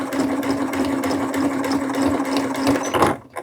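A sewing machine stitches around the edge of a fabric hood on a baby's beach poncho, its steady motor hum and rapid needle rhythm running close and continuous before stopping abruptly near the end.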